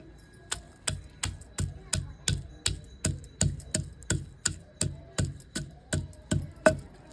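Roasted mutton liver pieces pounded with garlic, a steady run of about twenty hard, even thuds at a brisk rhythm, close and clear with no talk.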